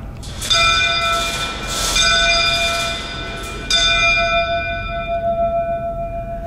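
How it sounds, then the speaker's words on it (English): Central bell of the Old Geelong Gaol rung inside the old jail, three loud metallic strikes with long ringing tones that linger and decay between and after the hits. "By ringing the central bell, I'm hoping the spirits will recognize its sound and elicit some activity within the jail"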